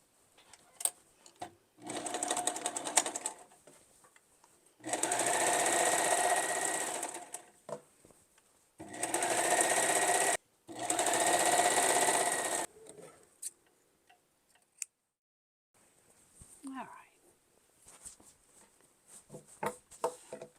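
A sewing machine hems a rolled fabric edge for a colonial cape, running in several loud bursts of steady mechanical whirring separated by pauses, with faint handling sounds and quieter stretches between runs.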